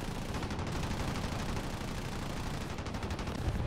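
Machine guns fire nonstop in the War Thunder video game, a loud, dense, unbroken rattle of gunfire that fills the whole stretch with no talk.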